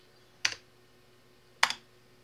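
Two short bursts of keys typed on a computer keyboard, spaced about a second apart, quiet and close with near silence between them.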